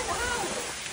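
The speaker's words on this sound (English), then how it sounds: "it just started pouring rain" Dense hiss of heavy rain pours steadily, a broad wash of noise with faint voices murmuring underneath for a brief moment.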